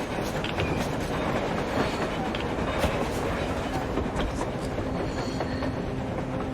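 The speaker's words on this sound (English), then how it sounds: "A train! A damn train on the surface!" Train rolling along the surface in the Metro Exodus video game, a loud continuous rumble of wheels with rhythmic clickety-clack and faint squeal, steady throughout, while voices talk over it.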